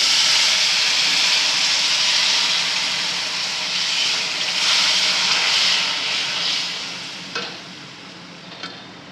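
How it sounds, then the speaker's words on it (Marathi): Water hits a hot pan of stir-fried vermicelli with a loud, sustained hiss that gradually dies down, followed by a couple of light clicks. "आता गरजेनुसार मी त्याला पाणी घालणार आहे."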